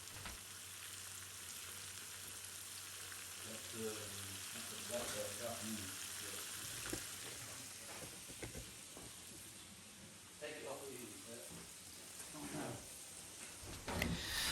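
An onion deep-frying in a pot of overflowing oil fizzes with a continuous sizzle and hiss, and bursts of bubbling crackle flare up and down throughout.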